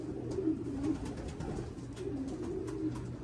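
Pigeons or doves coo softly in a low, rounded rhythm, two bursts of repeated coos separated by a short pause, faint against quiet outdoor background.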